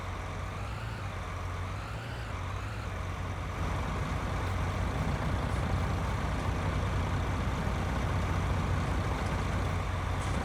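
A tractor in Farming Simulator 19 reverses with a steady low diesel engine drone that rises a little in level partway through and then holds constant, close and continuous, with no talking.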